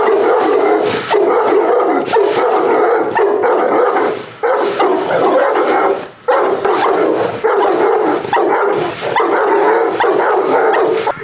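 Several excited dogs bark loudly and continuously at close range inside a friend's house, dense overlapping barks and yips with brief pauses, no talk over them.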